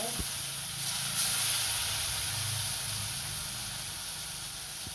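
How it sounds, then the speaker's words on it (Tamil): Fish frying in hot oil in a home kitchen while seafood lunch is cooked, a steady broad hiss continuing for the whole stretch at moderate level, with faint low sounds underneath. "மீன் பொரிய போடுறோம். மீன் பொரிய போட்டாச்சு."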